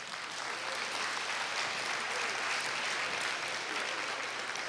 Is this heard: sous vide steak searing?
no